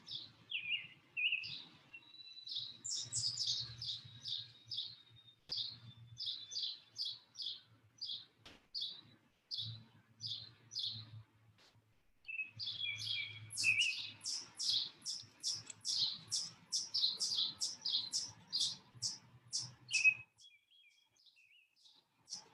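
Small birds chirp outdoors in long runs of rapid, high tweets that repeat through the whole stretch, fairly clear and near, over a faint low rumble.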